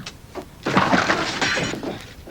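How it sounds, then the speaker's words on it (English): A painting crashes down and smashes with a sudden loud burst of breaking, shattering debris that rings on for over a second before fading. "Crash, another masterpiece smashed"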